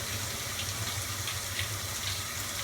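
Water rushes steadily into a Kenmore 80 series top-load washing machine as it fills, a constant close hiss with a low hum underneath.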